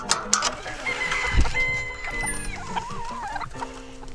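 Chickens cluck and chatter close by, with short clucks and a drawn-out warbling call over faint background noise.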